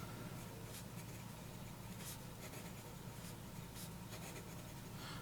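Conklin fountain pen with a fine Western nib scratching across paper, a faint continuous scribbling close to the microphone with soft strokes and no talk.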